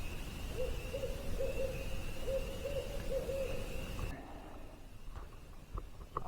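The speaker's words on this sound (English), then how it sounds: "Owl's been hooting for a few minutes." Near a lakeside camp across a bay at night, an owl gives a run of steady hoots for about four seconds before they stop, followed by faint scattered clicks and handling noises.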